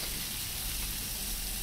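Pumpkin pieces fry in a pan with ginger and garlic, giving a steady, dense sizzle that stays close and even throughout, with no voices over it.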